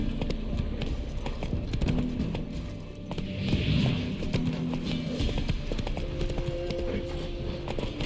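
Roach, a horse in The Witcher 3, gallops with a rapid, steady clip-clop of hooves close by, alongside jingling tack and a low ambient rumble.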